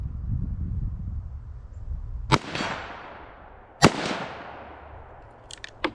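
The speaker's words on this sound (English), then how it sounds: "So this is 2 shots of my 34 grain jacket hollow points." Two sharp pistol shots from a 5.7x28 build with a 5-inch barrel, firing 34 grain jacketed hollow points, ring out about a second and a half apart. Each loud crack trails off into echo, followed by faint metallic clinks near the end.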